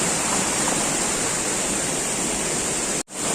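A waterfall at Keralamkundu roars steadily as a dense, loud, continuous rush of falling and flowing water, with a brief cut near the end.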